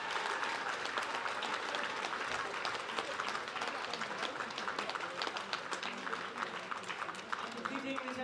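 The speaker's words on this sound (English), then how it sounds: "please give a massive round of applause to Mr. Brendan Matthew." Theatre audience applauding a tenor singer in a Gregorian chant performance, steady dense clapping that holds strong and even throughout.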